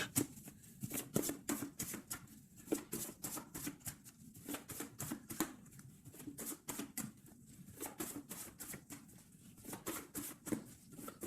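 A deck of tarot cards is cut and handled in a quick run of crisp card flicks and riffles, fairly faint and close, with no talking.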